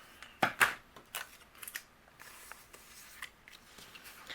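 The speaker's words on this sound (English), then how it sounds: "and then I'll trim away the excess" Scissors trimming excess cardstock for a handmade Easter easel card, giving two sharp, close snips near the start, then a few lighter cuts and soft paper rustles at low volume.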